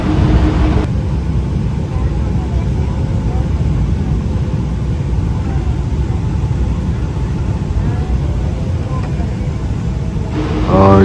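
Inside a passenger plane landing on a runway, a loud, steady cabin roar of engines and airflow runs throughout, shifting briefly at the very start and end.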